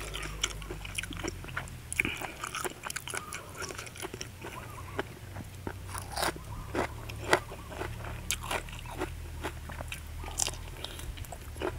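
Someone bites and chews crunchy baby squid with a hand-pounded spicy dipping sauce, giving steady close crunches and wet mastication clicks throughout, with faint background noise and no clear speech.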